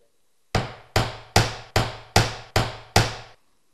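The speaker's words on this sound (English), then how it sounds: "You can easily drive a nail straight through the batten and straight through the ridge batten plate." Seven evenly spaced hammer blows drive a nail through a roof batten into the ridge batten plate, each strike sharp and close with a short ringing decay, no talking.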